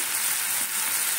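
Masala being stir-fried in a pan for a kabuli chana snack, a dense continuous sizzle with a faint scraping undertone, close and fairly loud.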